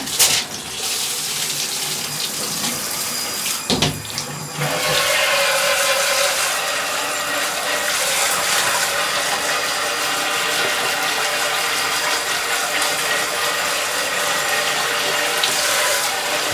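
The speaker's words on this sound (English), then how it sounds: "Turn on the lab water." Lab water runs steadily to rinse down a high banker during a gold cleanout, a loud continuous splashing wash with a brief clatter near the start, alone without talk.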